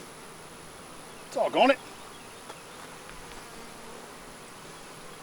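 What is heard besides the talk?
honeybees buzzing around an opened hive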